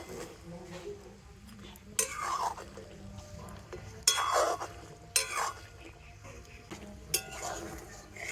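Homemade sweets are stirred in boiling sugar syrup in a wok, a spoon scraping and clinking against the metal in occasional bursts over a quiet bubbling background, close and moderately faint.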